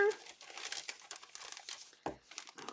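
Paper crinkles and crumples as Stampin' Up products are unboxed, a close, busy rustling with a sharper crackle near the end, under a bit of voice.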